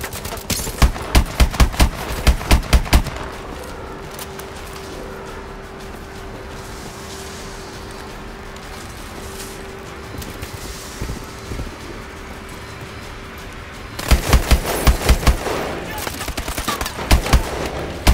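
Rapid machine gun bursts from Call of Duty: Advanced Warfare open and close a long stretch of steady noise with a sustained hum, loud staccato fire dense with repeated shots.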